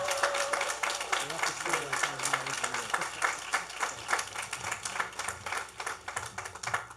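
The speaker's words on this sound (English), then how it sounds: "Give them a round of applause." An audience at the SUNY Ulster college commencement breaks into a continuous round of clapping, thick and close, with voices faintly audible underneath at the start.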